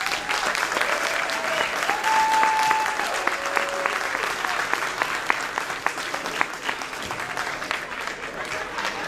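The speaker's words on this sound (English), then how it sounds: "I'd like to give them a round of applause." Audience at a community baseball opening day ceremony for a 60th anniversary season in Park Forest claps steadily in a sustained round of applause, dense and even throughout with a few faint voices underneath.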